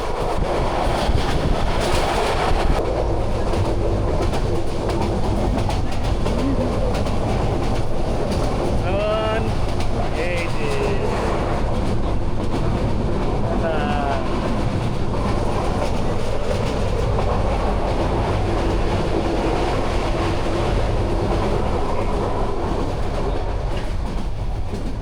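The Parjatak Express passenger train, running from Dhaka to Cox's Bazar, roars steadily from inside the carriage with loud, continuous rail rumble and clickety-clack, and faint voices now and then.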